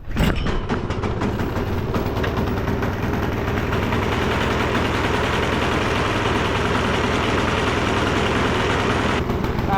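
A Craftsman snowblower engine fires up with a sharp burst, then settles into a steady, loud, rapidly chugging idle that runs unbroken to the end, no voices over it.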